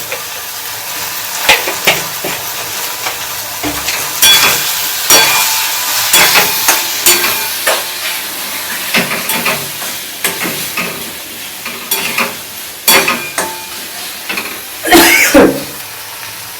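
Spices stir-fried with turmeric powder in a hot pan, loud close sizzling broken by repeated scraping and clattering strokes of a spatula at an uneven rhythm.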